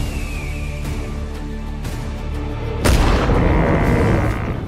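Loud gunshot boom in a Western film trailer set at Butcher's Crossing, striking suddenly over a sustained orchestral music bed and leaving a broad rumbling tail.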